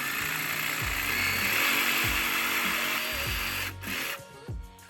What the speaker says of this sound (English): All right, so now we use the jigsaw.